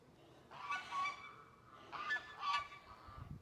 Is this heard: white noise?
no